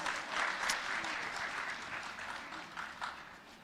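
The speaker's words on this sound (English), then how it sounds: "let's give her a big round of applause." Sustained applause from a crowd, steady clapping throughout with a few sharper claps standing out near the end.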